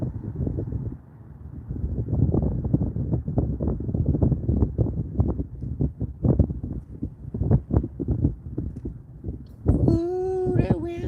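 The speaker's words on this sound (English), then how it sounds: "Ooh, the wind's kicking in the back of my neck." Wind gusts across an outdoor microphone near a track, a steady low rumble and buffeting throughout, with a person speaking over it near the end.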